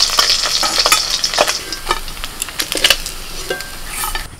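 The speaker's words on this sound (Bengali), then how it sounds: "মাছ ভাজা হয়ে গেল," Fish frying in a pan in a home kitchen, with a steady close sizzle punctuated by repeated scraping and stirring clinks of a utensil against the pan, no talking.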